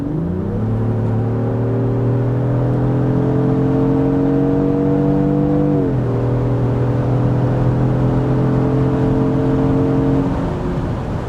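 A Lexus GX 550 Overtrail's 3.5-liter twin-turbo V6 pulls hard under acceleration, its engine note rising steadily through one gear, dropping at a shift and climbing again, loud and close throughout with no talking.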